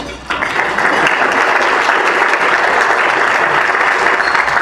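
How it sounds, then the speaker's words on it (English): Audience applause fills a lecture hall in Kearney, Nebraska, loud, dense and steady after a brief quieter start, with no talking over it. "Can you give them a round of applause?"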